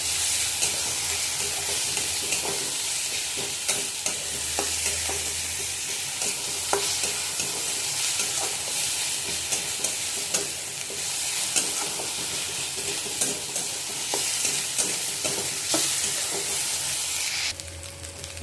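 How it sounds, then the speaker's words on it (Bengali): Ginger garlic paste fries in a pan, a steady loud sizzle running throughout with repeated scraping clicks of a stirring spoon; near and continuous, ending with a brief drop in intensity at the close. "আদা রসুনটা দিয়ে ভালো করে ভেজে নিয়েছি"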